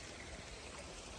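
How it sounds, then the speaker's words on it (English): Heavy rain pours down steadily in a tropical garden, making a dense, even hiss that never lets up. "It is pouring down rain out here."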